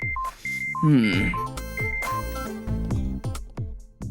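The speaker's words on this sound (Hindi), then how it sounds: "अभी ये टाइम किसने फोन किया होगा?" Electronic phone tones beep in short bursts, then a musical ringtone-like melody plays, fairly loud and close, with a few brief sounds mixed in.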